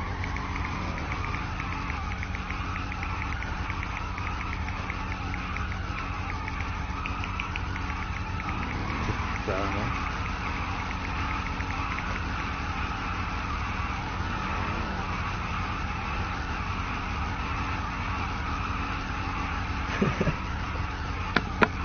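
Cars driving in GTA V around Sandy Shores, a steady engine drone running throughout the stretch with faint tire and skid noises and a few brief knocks near the end, no talk over it.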